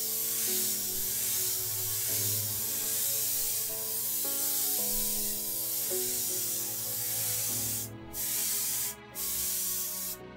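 Airbrush spraying paint over a monochrome canal boat picture, a steady continuous hiss running throughout beneath loud layered music, with a few brief breaks near the end.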